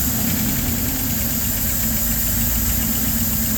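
A LaSalle car engine idles with no choke, a steady close mechanical drone with a faint knocking pulse running evenly throughout, no voices.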